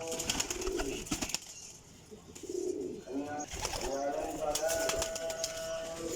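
A Teddy pigeon coos in low, rolling bursts near the listener while someone speaks over it. Scattered clicks and light flutters are heard as the bird is handled.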